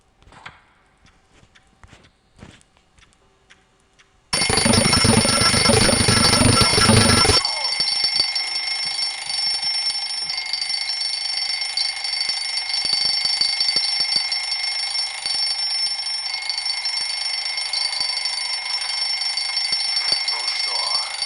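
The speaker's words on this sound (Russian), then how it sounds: "А, будильник есть." An alarm clock rings in a horror video game, a sudden loud rattling bell that starts after near-silence, then settles into a sustained high electronic tone that holds steadily to the end.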